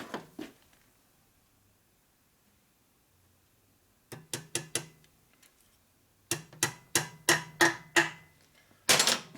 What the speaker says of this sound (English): You touch it with your hammer.